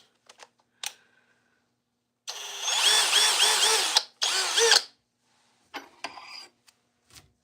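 Dongcheng power drill running in drill mode at speed 2, two close bursts of whirring motor with a short pause between them, set among scattered clicks and handling knocks.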